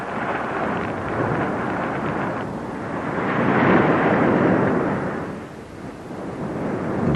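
Heavy, continuous torrential rain roars steadily on a ship at sea, swelling louder midway with a deep rumbling undertone, then easing slightly toward the end.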